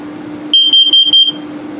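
A rapid series of about six shrill electronic beeps from a nearby carbon monoxide alarm being tested in a 2022 Flagstaff Micro Lite 21FBRS travel trailer, loud and evenly spaced, then a faint hum.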